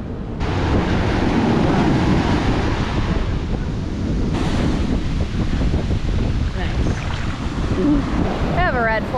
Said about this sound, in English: The wind is slightly annoying.